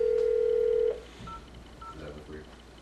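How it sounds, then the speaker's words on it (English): A phone being dialed to call someone up, with a steady tone opening the clip before it cuts off, then a few brief beeps amid quiet room noise and a low murmur of voices. "so we're dialing him up"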